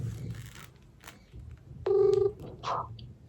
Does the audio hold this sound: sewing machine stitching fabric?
no